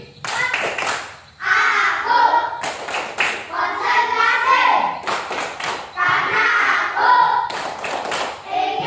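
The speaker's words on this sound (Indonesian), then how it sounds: "Tepuk konsentrasi." Children carry out the tepuk konsentrasi clapping chant, crisp patterned claps in quick clusters between lines of chanted words, near and lively.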